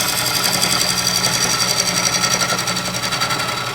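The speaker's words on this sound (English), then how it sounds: "So I'm using the bowl gouge," A 5/8 bowl gouge cuts Norfolk Island pine spinning on a wood lathe, producing a loud, continuous rhythmic chattering hiss close by without a break.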